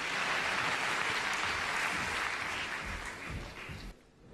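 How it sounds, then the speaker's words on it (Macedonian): Audience applause for the band at the Zlatna Bubamara 2015 popularity awards ceremony, a dense, steady crowd clapping that holds evenly, then thins out and drops away toward the end. "Хвала за бендот, аплауз за бендот."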